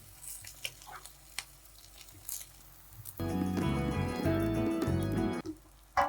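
Cooked rice for egg fried rice is stirred in a pan, with scattered light clinks and scrapes before a loud, steady stretch of clattering and frying that stops abruptly and then returns briefly.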